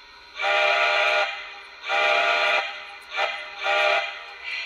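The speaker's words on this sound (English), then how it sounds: "Whistle number two." Lionel model train whistle sounding four times, two long blasts followed by a short toot and another long blast, loud and close with no talking.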